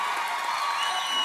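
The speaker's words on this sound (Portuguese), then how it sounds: "uma salva de palmas pro trio Barra Dura, gente" Crowd applause and cheering at a live sertanejo show for the trio Barra Dura, a steady dense wash of clapping and voices filling the whole moment without a break.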